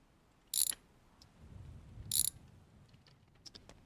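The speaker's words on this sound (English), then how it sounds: "let's go ahead and grab our wrench. We are going to unbolt the battery" Two short bursts of ratchet wrench clicking, about a second and a half apart, as a car battery is unbolted in a garage; near and fairly loud against a quiet background.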